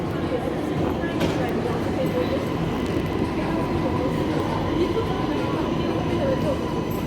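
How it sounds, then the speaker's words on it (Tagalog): Train pulling into a station, a steady rumbling rail roar that fills the whole stretch with faint squeals and clatter over a busy platform, and people talking throughout. "Ayan na yung train."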